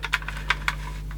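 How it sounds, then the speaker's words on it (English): A Sansui dual cassette deck's tape mechanism, after chewing up a tape, gives a handful of faint, irregular clicks and ticks over a low steady hum. "Whatever was making that clicking sound,"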